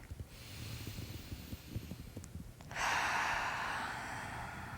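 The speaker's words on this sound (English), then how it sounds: "Breathe in deep." A single long, deep inhale during a progressive muscle relaxation exercise, starting midway and continuing as a steady breathy rush close to the microphone, with quieter low rumbles before it and no talking.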